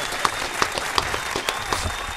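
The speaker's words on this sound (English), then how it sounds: "Give that man a round of applause." Audience applauding Grandmaster Flash at a hip-hop event: a steady wash of clapping with a few sharper individual claps standing out, fairly close and continuous throughout.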